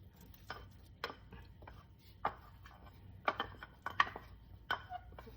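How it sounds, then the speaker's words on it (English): Baby clams drop into a pot of nearly cooked rice one by one, giving about a dozen sharp, light shell clicks spread irregularly over a quiet background. "so I'm going to add the baby clams"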